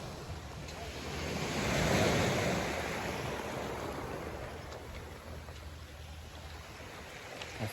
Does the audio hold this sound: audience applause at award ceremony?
no